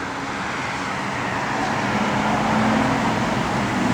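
A 1972 Buick Skylark convertible with a 350 engine and automatic transmission runs in a steady, even rumble, holding close and fairly loud without breaks.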